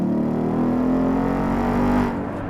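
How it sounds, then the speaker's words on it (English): A 2018 Ford Mustang with active exhaust revs steadily and loudly with a deep, rumbling exhaust note, easing off slightly near the end. "thanks to this new active exhaust, the 2018 Mustang now sounds like a proper muscle car"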